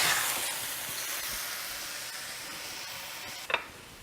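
Shrimp stir fry with mixed vegetables sizzles loudly in a spicy brown sauce thickened with cornstarch, a steady hiss with faint stirring scrapes and a sharper clatter near the end.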